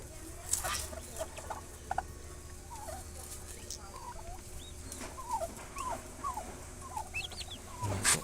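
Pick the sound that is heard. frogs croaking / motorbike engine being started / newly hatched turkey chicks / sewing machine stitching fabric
newly hatched turkey chicks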